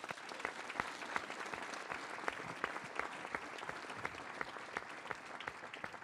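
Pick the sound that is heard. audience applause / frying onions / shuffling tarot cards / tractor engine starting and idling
audience applause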